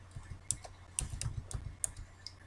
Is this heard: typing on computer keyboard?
yes